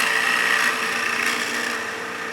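A wood lathe takes a fine cut to square up the surface of a turned German smoker, giving a steady, close grinding hiss from the tool on spinning wood. The sound holds evenly throughout and no one speaks.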